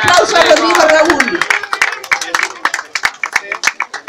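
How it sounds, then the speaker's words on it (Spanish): Crowd applause for the second-place finisher at a charity race against addiction, starting with a dense burst over a voice and announcer talk, then thinning to scattered individual claps that continue near and moderately loud. "fuerte el aplauso para Brandon"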